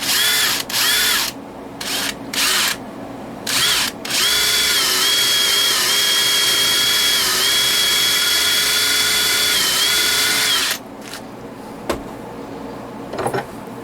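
An electric drill bores down into a clamped metal part, with a steady high whine that runs for several seconds after a few short starts and stops, close and loud with no talk.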